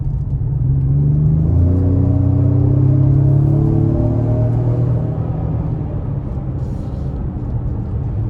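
A 2025 Ford Explorer ST Line with the 2.3-litre turbo four accelerating hard from about 20 to 50 mph, a loud, steady engine drone rising smoothly in pitch, heard from inside the cabin with no talk.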